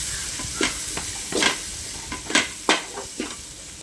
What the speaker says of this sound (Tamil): கொஞ்சமாக குழம்பு மிளகாத்தூள் சேர்த்து கலந்துக்கலாம்